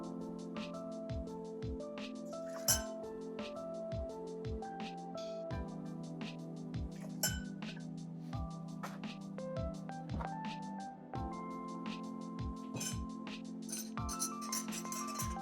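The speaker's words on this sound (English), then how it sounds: "This is a stirred cocktail. When you have all spirits in a cocktail, it is stirred, not to be shaken." Ice clinks and rattles against glass as a spoon stirs a Maker's Mark old fashioned, a steady run of close, bright taps over a low hum with no talking.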